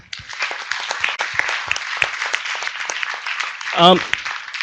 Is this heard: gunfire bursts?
no